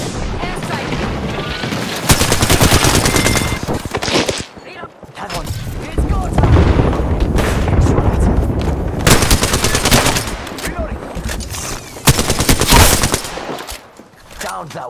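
Rapid bursts of automatic gunfire and loud shots crackle through an Apex Legends firefight, coming in dense volleys separated by brief pauses, with a player talking intermittently over the shooting.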